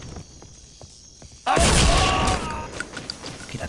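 An explosive trap detonates in Counter-Strike: Condition Zero Deleted Scenes, a sudden loud blast about midway that rings out and decays over a couple of seconds after a quieter stretch of game ambience.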